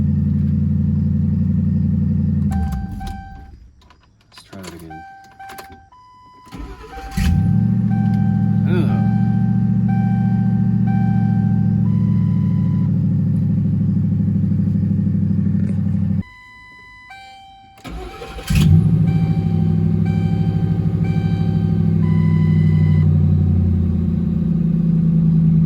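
A car engine starts, settles into a loud, steady idle, cuts out, then restarts with a strong burst and runs on. Talk is mixed in with it.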